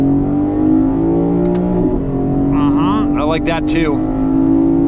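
A 2024 Lexus IS500 V8 engine drones loudly and steadily under acceleration in paddle-shift manual mode, its pitch rising gradually, while someone speaks briefly over it.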